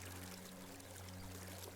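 River water flowing steadily nearby amid green outdoor surroundings, a soft continuous wash of noise with a low steady hum underneath, fairly faint and without voices.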